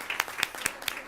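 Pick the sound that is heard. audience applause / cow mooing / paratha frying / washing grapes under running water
audience applause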